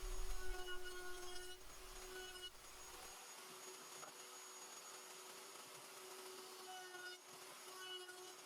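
A router rounds over the corners of a wooden planter box, giving a steady faint whine with a low rumble that drops out partway through, then a continuous thin hum with slight surges.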